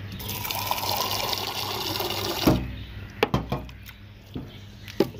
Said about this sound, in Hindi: तो अभी हम लोग यहाँ से पानी भरते हैं